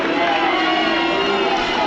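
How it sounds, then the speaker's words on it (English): Football crowd at Plainmoor during Torquay United v Maidstone United, a dense, steady roar of supporters that holds loudly throughout a brief moment. "one cheer at Plainmoor."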